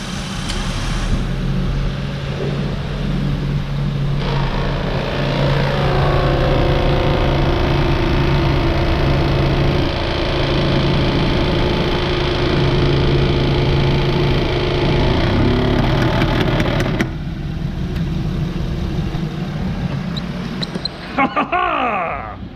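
A 2007 Honda Pilot engine runs in reverse under load with both cooling fans spinning, one of them wobbling badly. The result is a loud, continuous mechanical drone with a steady tonal hum that cuts out shortly before the end.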